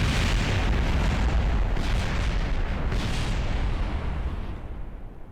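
Loud, dense explosion roar in the video game Kerbal Space Program, a sustained rumbling blast of several seconds that slowly fades at the end, with no talk.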